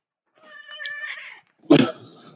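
Two house cats of a podcast host hiss and yowl at each other: a drawn-out tonal meow-like wail, then a sudden loud, harsh hissing burst, close and alone with no talk.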